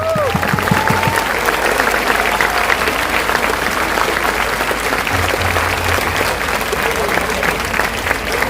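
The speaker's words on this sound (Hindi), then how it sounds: "जोर से तालियां दीजिए इनके लिए" Loud, continuous crowd applause at a political rally stage event, many people clapping in a dense steady roar, with a brief tonal sound and a low hum at the start.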